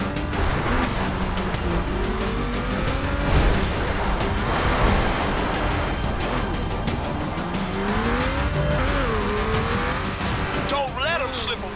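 Off-road vehicle in the Offroad video game driving hard over bumps, engine roaring with shifting revs and tire noise, loud and continuous, with voice and music-like tones over it.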